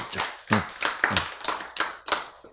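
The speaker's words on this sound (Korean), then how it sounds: "박수!" A live audience at a Korean sermon-style lecture bursts into clapping, five or six loud, rhythmic waves of hand claps close by with no talking.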